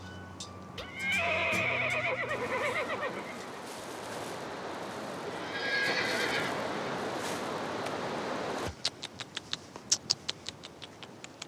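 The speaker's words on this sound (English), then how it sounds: "This breed of horse is called the Spotted Beauty." A Kyrgyz Charat, a dappled 'Spotted Beauty' horse, whinnies loudly twice, each a long quavering neigh, then its hooves strike in a steady clip-clop rhythm of sharp, close knocks.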